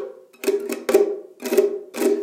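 Five quick guitar strums made with three fingers in uneven bursts, each a rolled harp-like sweep across the strings, close and moderately loud with short gaps between.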